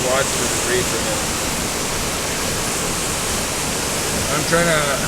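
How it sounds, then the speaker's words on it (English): The Zeballos River in flood after rain on snow, a loud, continuous broadband roar of rushing water heard close by, unbroken and steady throughout. "There's the river."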